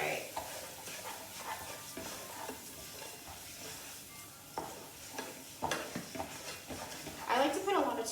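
Garlic, turmeric and carrot rice is stirred in a pot, with soft sizzling under irregular spoon scrapes and knocks against the pot, growing louder and busier toward the end; quiet and close.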